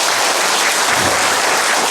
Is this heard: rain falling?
no